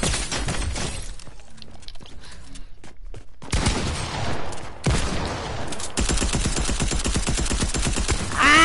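Rapid video game gunfire crackles in dense bursts through most of the stretch, with a steady run of fast repeated shots near the end, loud and close throughout.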